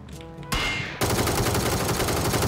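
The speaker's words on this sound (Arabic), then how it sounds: "قاعد يطلق على سيارة الشرطة هذا" Sustained automatic gunfire aimed at a police car in PUBG, a brief burst followed by a loud, continuous rattle of rapid shots up close, with no talk over it.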